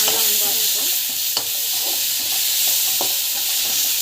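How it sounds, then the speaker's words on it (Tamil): Tomato and bitter gourd frying in oil in a pan, a steady close sizzle with occasional light stirring clicks and scrapes, no talking. "இது வந்து பார்த்திங்கன்னா அந்த எண்ணெயில் வந்து நல்லா ஃப்ரை ஆகணும்."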